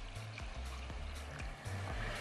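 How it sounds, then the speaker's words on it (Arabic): Cold tap water running and splashing into a bowl of basmati rice set to soak, a steady trickling pour with no voices. "ميه من الحنفيه مش ميه دافيه."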